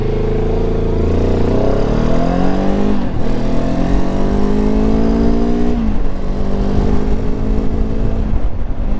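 A Benelli TRK 702 X motorcycle engine revs up hard from a standstill through several gears, its pitch climbing and dropping with each shift, loud and close.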